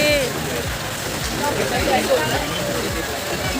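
Heavy rain pours steadily in a dense, hissing wash, close and loud, with a voice faintly audible beneath it.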